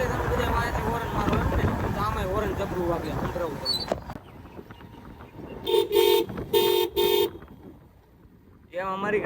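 A car horn gives three loud, short honks in quick succession after a stretch of people talking, then the sound drops back to quiet.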